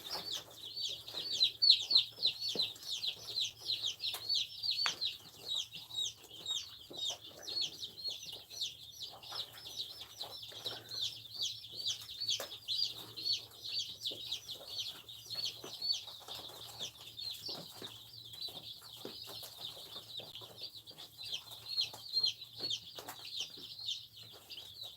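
Young chicks on a farm peeping and clucking continuously in a busy, high-pitched flock chorus, moderately loud and close, with faint background noise and no voices.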